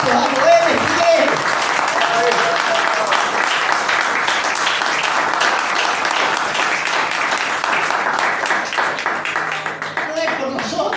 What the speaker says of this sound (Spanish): Dale un fuerte aplauso, un grito, algo, Él es fiel.